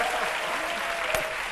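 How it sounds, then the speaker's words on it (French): Studio audience applause on a French midday television show, a dense, steady clapping from a crowd that carries evenly through the short stretch. "À ce public-là d'applaudir Caroline Donabeja."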